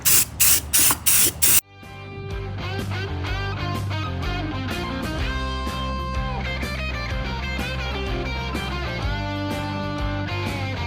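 Krylon flat black rust protector spray paint is applied to a steel wheel in several short loud hissing bursts, followed by a long stretch of steady tonal background sound.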